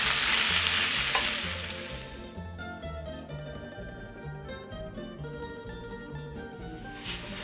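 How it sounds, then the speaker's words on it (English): Hot oil sizzles loudly and hisses for a couple of seconds as peppers are added to fry, then softens as music continues underneath. "The oil is sizzling,"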